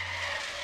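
In the Trader Life Simulator video game, a car brakes hard and skids, producing a continuous loud tire screech with a steady engine hum beneath it throughout.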